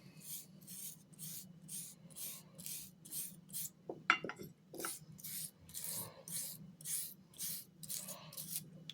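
A brass brush scrubs rust and patina from antique iron in a series of rhythmic rasping strokes, close and fairly quiet, with a few brief sharp clinks partway through.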